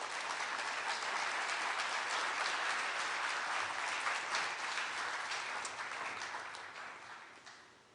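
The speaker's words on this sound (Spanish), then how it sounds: "Recibamos con un aplauso a nuestro siguiente presentador." An audience welcomes the next presenter with applause, a broad, even clatter of many hands that holds for several seconds and then gradually fades.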